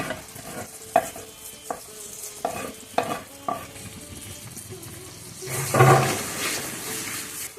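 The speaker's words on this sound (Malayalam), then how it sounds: "എണ്ണ ചൂടാകുമ്പോൾ നമുക്ക് ഈ വെളുത്തുള്ളി, ചുവന്നുള്ളി, കറിവേപ്പില ഇത്രയും സാധനങ്ങൾ ഇതിലേക്ക് ഇട്ട് കൊടുക്കും." Garlic, shallots and curry leaves hit hot oil for Kerala crab ularthu, giving a steady sizzle broken by sharp spoon knocks against the pan, then a loud surge of spitting and crackling near the end.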